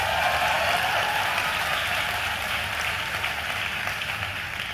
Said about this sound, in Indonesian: Tepuk tangan, tolong.